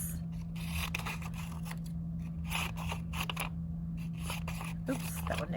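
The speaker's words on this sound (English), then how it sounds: "you could just take a white piece of paper and you could cut some strips." Scissors snip strips from a sheet of white paper for a mixed-media mitten craft, giving a series of crisp, close cuts in an irregular rhythm over a steady low hum.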